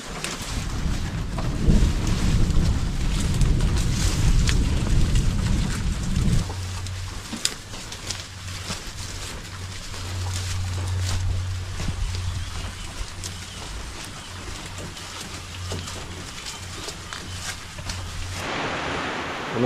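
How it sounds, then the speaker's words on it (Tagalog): Steady, continuous rain pours over a farm with cattle and a hut shelter, a broad close hiss of heavy drops with a low droning hum running underneath for much of its length. "Tuloy-tuloy yung pag-ulan."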